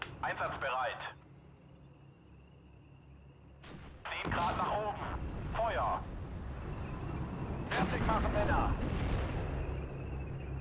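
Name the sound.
gunfire and artillery in video game Steel Division: Normandy 44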